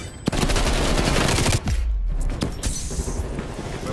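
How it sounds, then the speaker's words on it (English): Rapid automatic gunfire from a shooter video game, loud and sustained bursts of close shots with a brief gap near the middle before firing resumes, no talking over it. "We'll give you covering fire from here"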